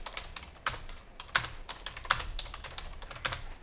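Typing on a computer keyboard, close and clear, with irregular bursts of key clicks and a few louder strokes, heard alone without talk.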